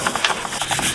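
A wire brush scrubbing rust off a metal garden tool makes close, rapid, gritty scratching strokes, several quick rasping pulses in under a second.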